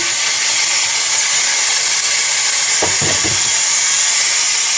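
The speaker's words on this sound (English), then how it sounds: "So first thing I always do is purge the steam." A Breville Oracle espresso machine purges its steam wand with a loud, continuous high hiss of steam. A few low sputtering pulses come partway through, and no one speaks.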